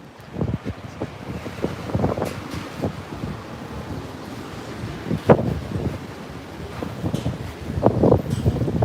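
Gusty wind buffeting a microphone outdoors in a Tokyo park on a windy day, with irregular low thumps and rumbles rising and falling throughout and no talking.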